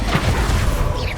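A spell blast goes off in Hogwarts Legacy, a dense low booming burst with crashing rumble that stays loud across the short moment with no break.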